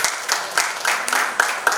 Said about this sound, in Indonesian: Boleh kita berikan tepuk tangan buat Tuhan.